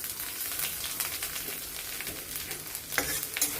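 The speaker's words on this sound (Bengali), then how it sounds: "এবার এই তেলেই আমি ফোড়ন দিয়ে দিচ্ছি তেজপাতা, শুকনো লঙ্কা, গোটা জিরে আর খানিকটা আদা।" Bay leaf, dry red chilli, whole cumin and ginger hitting hot oil for tempering: a dense, even sizzle and spatter throughout, with the stir of a spoon and a brief louder crackle near the end.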